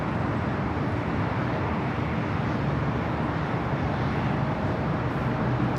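A Delta Airbus A321neo departing Los Angeles International Airport, a loud, steady broadband jet roar that holds at a constant level throughout, heard from fairly close with no talk.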